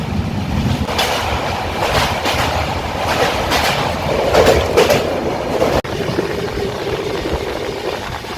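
Padatik Express night train running on rails between Dakshineswar and Dankuni, heard from onboard as a steady loud rumble with rhythmic wheel clatter over the joints, no voices.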